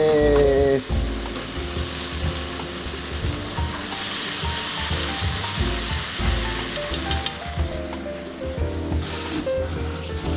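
Cabbage stir-frying for twice-cooked pork, a steady loud sizzle and crackle in a hot pan with faint stirring scrapes throughout, no talking.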